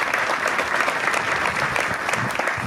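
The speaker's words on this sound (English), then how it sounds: "Just give them a big round of applause." At a community pavilion dedication, an outdoor audience gives a brief burst of steady, even applause, a full patter of many hands at moderate loudness.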